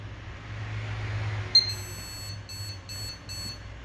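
An Asus Rampage IV Extreme motherboard's POST beep: a short electronic beep sounds once, then three quick high beeps follow in a steady rhythm over a low background hum.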